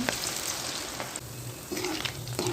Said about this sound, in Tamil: அதுக்கப்புறம் எண்ணெயை காய வச்சு அதில் பக்கோடா மாதிரி போட்டுக்கோங்க.